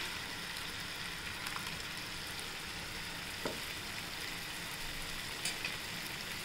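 Gravy for a green paneer dish sautés in a pan, giving a steady, soft, close sizzle throughout with a few faint taps of a spoon.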